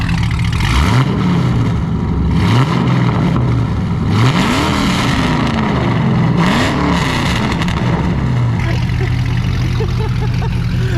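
A Chevrolet Camaro SS with a new aftermarket exhaust, loud and close, holding a deep rumbling idle and then revving in four rising and falling sweeps before settling back to idle.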